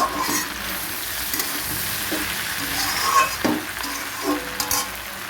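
Mixed vegetables with stalks frying in a pan, a continuous close sizzle with repeated scraping stirs of a spatula against the pan.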